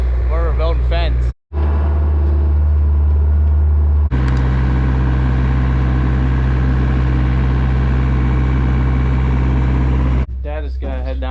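A skid loader engine runs steadily on a farm during fence building, a loud continuous mechanical drone that holds across the clip, briefly cut off near the start, with voices heard over it at the beginning and end.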